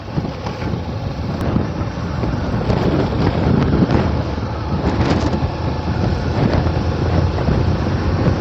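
Strong wind buffets the microphone during a motorcycle ride along a road lined with trees on both sides, a loud, continuous roar with gusty swells and no speech.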